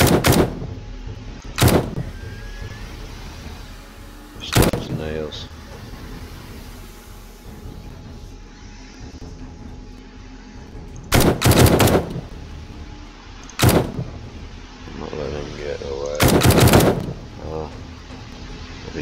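Gunfire from shooting zombies during a horde night in the video game 7 Days to Die: several separate loud bursts of shots spread across the clip, with game ambience in between and no speech.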